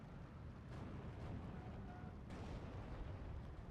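Mortar and artillery fire in the wargame Steel Division 2, with dull booms and bursts rolling over a dense, constant battlefield roar, the shots fairly distant and blended into the noise.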